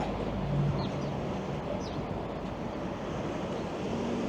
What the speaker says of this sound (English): the wind has certainly picked up